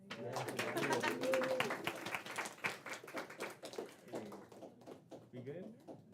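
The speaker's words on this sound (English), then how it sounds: "Can we give a clap for them?" Small audience at a literary reading clapping briefly in scattered, uneven bursts, fairly quiet, with a voice speaking over and after the applause.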